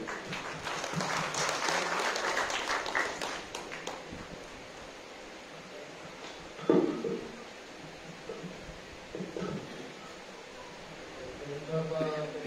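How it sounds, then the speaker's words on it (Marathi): Audience applause breaks out at a gathering, a burst of clapping that fades after a few seconds, followed by scattered murmurs, quieter claps and movement in the room. "आपण त्यांचं टाळ्या वाजवू पुन्हा एकदा"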